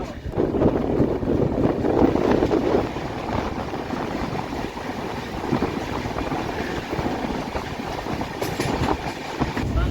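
The Indore Express passenger train, a loud continuous rumble of wheels and carriages with wind buffeting the microphone, steady throughout without voices.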